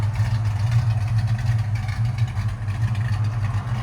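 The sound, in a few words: 1971 Mustang Mach 1 351 V8 idling with headers and custom H-pipe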